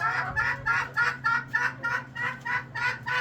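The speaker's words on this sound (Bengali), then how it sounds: "এই দেখতে পাচ্ছেন আমার মুরগির খামার" Chickens on a poultry farm cluck in a steady, rhythmic run of about a dozen close, moderately loud bursts, with no other sounds.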